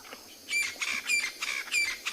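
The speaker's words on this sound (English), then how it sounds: "A lot of birds and other animals calling now as the sun sets." Birds calling at sunset on a South African safari, a quick series of sharp squawking chirps repeating in bursts over faint background hiss, moderately close and without talk.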